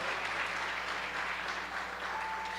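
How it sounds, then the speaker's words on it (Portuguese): Steady, dense applause from a church congregation during a worship service, sustained and even throughout without pause, with no talk over it. "pode aplaudir bem forte a Jesus"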